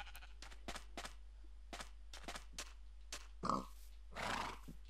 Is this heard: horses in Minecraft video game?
yes